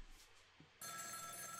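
In the video game Ghost Trick, a telephone in a phone booth begins ringing abruptly after a quiet start, a bright continuous electronic bell that stays steady and fairly faint to the end.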